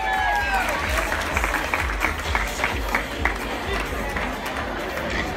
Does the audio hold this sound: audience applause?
yes